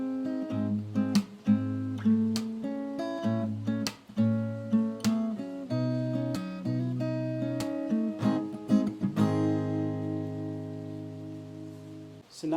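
Fingerstyle guitar plays the opening of an arrangement of a Hindi song, plucked bass notes and melody with occasional strums, moderately quiet and close, ending on a sustained ringing chord, no voices.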